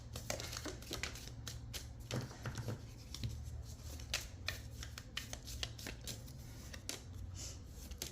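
Tarot cards being drawn and handled: soft, continuous shuffling, sliding and crinkling of card stock, close and fairly quiet, with small taps and flicks scattered throughout.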